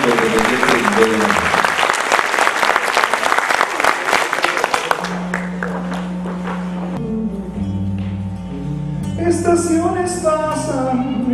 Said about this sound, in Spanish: fuerte el aplauso al Palacio Público Independiente de Veracruz